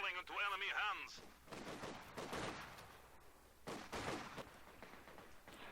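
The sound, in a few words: MG42 machine gun fire in a war video game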